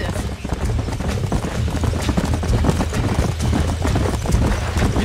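Horse hooves clip-clopping in Red Dead Redemption, a steady, close, fairly loud drumming of hoofbeats at a brisk gait, with voices speaking over it.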